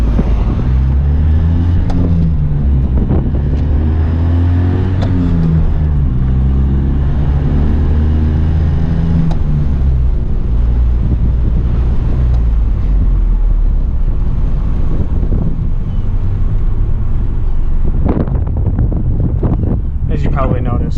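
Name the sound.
1983 Honda Acty Street L driving on residential streets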